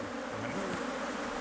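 A swarm of aggressive bees in the desert makes a dense, steady buzzing hum, close and continuous, with no voices.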